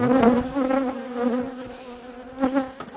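Honey bees buzz steadily in an opened hive, a dense close drone holding a strong pitch with a swell near the end, alone without voices.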